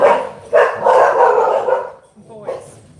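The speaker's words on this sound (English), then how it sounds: "why do we keep barking?" A dog barks loudly and close in a drawn-out volley of rough barks, then lets out one shorter yelp after a brief pause.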